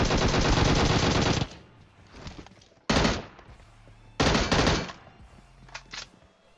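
Bursts of rapid automatic gunfire in the battle royale video game PUBG, a long volley, a short burst, then another sustained spray, with scattered single shots and quieter game ambience in the gaps.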